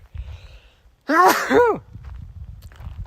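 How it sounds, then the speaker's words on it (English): A single sharp human sneeze bursts out loud and close outdoors in bright sun on a trail, preceded and followed by quiet breathing and faint rustling. "That sun made me instantly have to sneeze."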